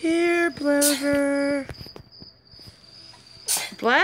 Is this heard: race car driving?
no